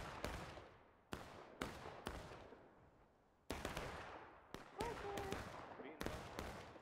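Musket volleys crack across a rocky hillside in War of Rights, a Civil War battle game: a dozen sharp, loud reports with long echoing decays, some spaced apart and some in quick clusters, with a faint voice in between.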